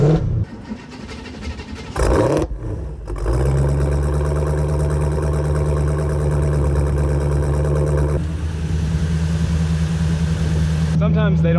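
A Corvette engine cranks and catches a few seconds in, then settles into a loud, steady, rumbling idle that carries on to the end.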